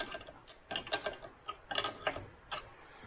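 A 13 mm ratchet wrench snugs down a bolt on an aftermarket side mirror of a side-by-side UTV, giving several short bursts of close, crisp clicking with brief pauses between strokes.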